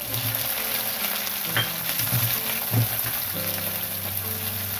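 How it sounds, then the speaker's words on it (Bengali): Chopped onion frying in oil over whole spices for a Bengali potato curry, a continuous close sizzle with a few stirring knocks and no voices. "এবার আমি কুচনো পেঁয়াজ এই তেলের উপরে দিলাম।"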